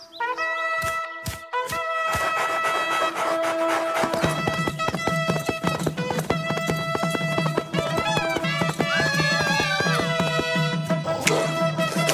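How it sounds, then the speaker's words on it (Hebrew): Cartoon horse galloping through a forest, its rhythmic clip-clop hoofbeats running steadily beneath loud, busy orchestral background music for the whole stretch. "בינתיים, המלך דהר ביער הסמוך."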